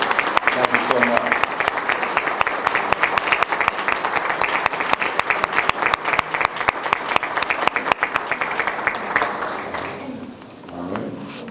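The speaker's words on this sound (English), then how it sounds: "Any MALEA members, please stand up and give yourself a round of applause." Audience at an Iftar dinner and awards ceremony applauding together in a large hall, dense sustained clapping for about ten seconds before fading out, with faint voices beneath.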